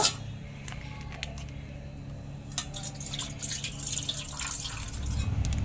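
Raw packaged milk pours into a bowl as a soft, steady liquid trickle with a few faint drips and clinks, quiet and close, with no talking.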